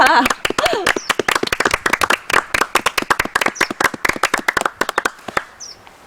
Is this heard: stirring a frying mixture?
no